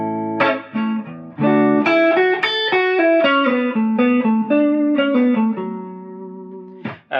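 An electric guitar plays a fast solo built on triad notes in D, with a string of quick, distorted notes ringing up close, then one held note at the end.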